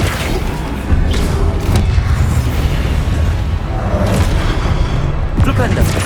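Booming spell impacts from the Flipendo knockback spell in Hogwarts Legacy, heavy thuds and bursts over dense, loud game-combat noise with a voice calling out.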